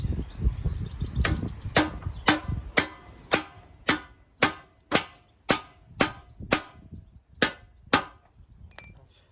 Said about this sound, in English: This time I've got a little hammer head here to sit on this nub on the other side, and hopefully this will drift through